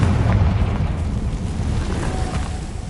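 Explosion from the Confringo spell in Hogwarts Legacy, a loud booming burst at the start that rolls off into a long rumbling tail, with no talk.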